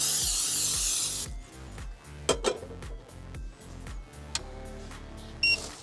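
Oil hisses from a spray can onto a pan in a van kitchen, one loud burst of about a second, followed by light clinks and knocks of cookware and a couple of short beeps.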